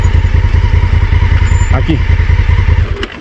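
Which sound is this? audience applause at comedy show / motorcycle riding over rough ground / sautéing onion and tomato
motorcycle riding over rough ground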